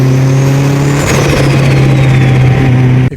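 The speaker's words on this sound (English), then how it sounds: "Blow-off valves go off on a turbocharged car when you let off the throttle." A loud idling turbocharged Mitsubishi Lancer Evolution engine hums steadily, with a whooshing hiss sweeping downward as the blow-off valve vents, ending with a brief pop.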